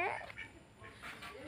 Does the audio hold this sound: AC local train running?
no